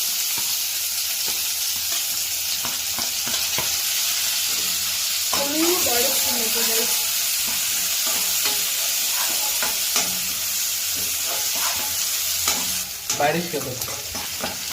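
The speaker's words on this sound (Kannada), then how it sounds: "ಸಾಸಿವೆ ಹಾಕೋಬೇಕು. ಚಟಪಟ ಅಂದಿದ ತಕ್ಷಣ ಈರುಳ್ಳಿ ಹಾಕೋಬೇಕು." Mustard seeds spatter in hot oil, then onions go in and fry with a loud, continuous sizzle. Scattered crackles and a few stirring scrapes sit over the steady hiss.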